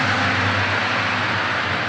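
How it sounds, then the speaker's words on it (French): A diesel road vehicle's engine roars steadily with a loud low rumble, revving hard throughout with no pause and no one talking over it. "Là, il va démarrer à fond. avec son diesel."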